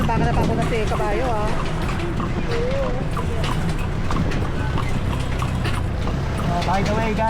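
Horse hooves clip-clop on the street of Intramuros as the horse pulls a carriage, a steady rhythm close by under lively chatter from passengers and a guide, with street noise around.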